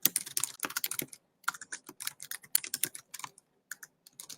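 Rapid keystrokes on a computer keyboard come in quick bursts with brief pauses, close and crisp, with no voices.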